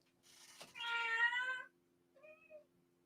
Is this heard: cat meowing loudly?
yes